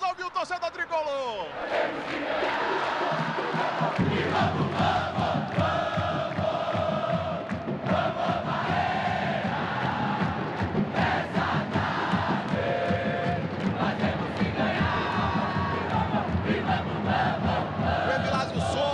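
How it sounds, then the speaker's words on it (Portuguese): Bahia football supporters chant and roar continuously in a packed stadium during the final of the Bahia state championship, a dense crowd wall of sound with voices rising throughout. "de fundo a torcida do Bahia. Vamos ouvir o torcedor tricolor."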